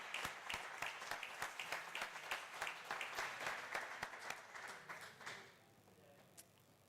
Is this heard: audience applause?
yes